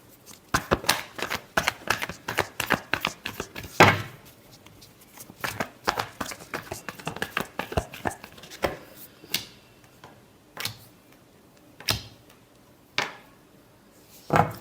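Tarot cards are shuffled up close, with a fast burst of crisp riffling flicks followed by slower, scattered slaps and taps as the deck is handled in a quiet room.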